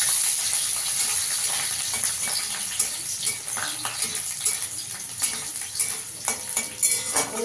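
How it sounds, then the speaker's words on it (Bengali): Garlic fries in hot oil, a continuous bright sizzle with irregular stirring clinks and scrapes of a utensil in the pan, close and moderately loud. "এখানে একটু রসুন দিয়ে দেবো, রসুনটাকেও ভেজে তুলে নেব।"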